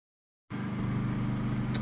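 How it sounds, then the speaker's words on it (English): A steady engine drone begins abruptly and holds at a constant low rumble, a generator running just outside the door. "you can hear that the generator is running right outside the door here"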